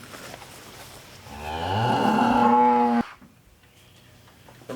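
A single long, loud moo from a nearby cow on a farm, rising and holding for about two seconds before cutting off, followed by quiet outdoor background.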